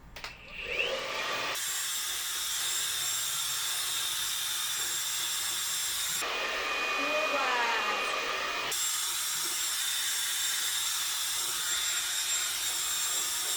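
A T3 Cura or BaByliss Pro premium hair dryer blows steadily and close up, with its airflow tone shifting abruptly twice as the settings change, and no talking.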